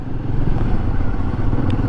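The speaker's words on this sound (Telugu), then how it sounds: "बाइक से सारे निकल रहे हैं" Motorcycles inch past in a traffic jam on a snowy Himalayan mountain road, their engines a steady, loud low rumble that fills the whole moment with no break.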